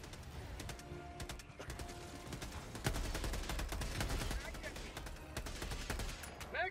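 Sustained automatic gunfire in Helldivers 2, dense overlapping bursts of shots and impacts rattling on for several seconds, fairly quiet overall.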